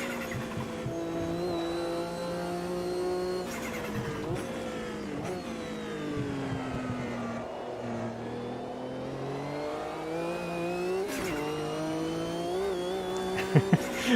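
A race car in the sim racing game Automobilista 2 runs over curbs and small bumps, its engine note rising and falling through gear changes, with sharp bumps and thumps near the end.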